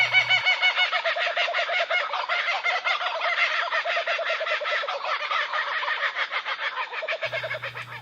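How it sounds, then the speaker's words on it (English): Kookaburras give a loud, continuous laughing chorus of rapid, rising and falling cackles, several birds overlapping for about seven seconds, close and dense with no other sounds. "They have a loud call that sounds like they are laughing."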